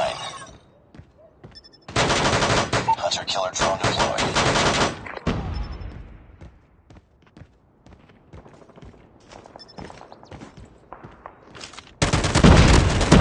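Call of Duty gameplay delivers loud bursts of automatic gunfire, a sustained volley early, sparse shots and footsteps in between, and another burst at the end, with a brief exclaiming voice.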